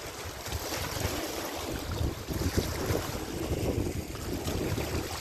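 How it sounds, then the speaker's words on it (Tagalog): Rough, continuous surf churning close by at the seaside in Al Khobar, Saudi Arabia, with heavy wind buffeting the microphone throughout and no talk. "Ah, malakas ng alon."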